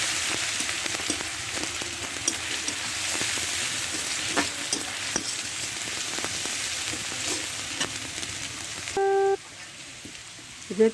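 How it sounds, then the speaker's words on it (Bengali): Onion and garlic frying in a pan for a country chicken curry, a steady close sizzle with scattered pops and stirring scrapes, ending with a brief tonal clatter near the end. "পেঁয়াজ রসুন ভাজা হয়ে গেছে।"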